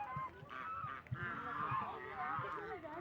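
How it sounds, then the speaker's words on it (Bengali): Ducks approaching and honking in a nasal, repeated series close by, with faint voices in the background. "এই যে হাঁস আসছে।"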